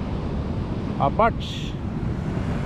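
Ocean waves and wind at the seaside beside Pacifica Pier make a constant rough wash of surf noise, with someone briefly speaking over it.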